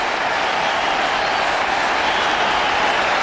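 Steady broadband wash of a large cricket crowd applauding and cheering Tamim Iqbal's 150 during a Bangladesh vs India Test match, continuous and dense throughout with no clear voices standing out.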